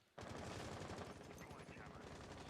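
Rapid automatic gunfire sounds in a professional esports video game match involving Astralis. The bursts are dense and continuous, start abruptly and stay loud throughout.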